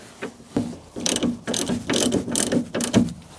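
A ratchet clicks rapidly in repeated close strokes while tightening shock absorber bolts during a DIY swap, each burst of pawl ticks followed by a short pause; no one speaks.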